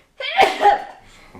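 A person with a lingering cough since returning from Alaska gives two quick, close, forceful bursts about a third of a second apart, followed by a quiet room.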